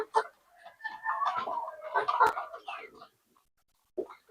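Young backyard-bred fighting rooster, about two months old, clucking and vocalizing in a few close bursts over roughly three seconds, followed by a pause and a short final cluck.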